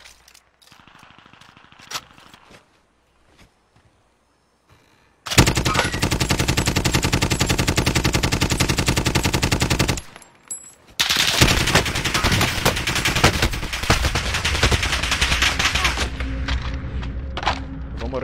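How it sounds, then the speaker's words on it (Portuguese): Bursts of rapid automatic gunfire in a Call of Duty Warzone Gulag fight, long dense rattling strings loud and close, split by a short pause, after a quieter start with a few faint sounds. "O cara levou um monte de tiro e morreu."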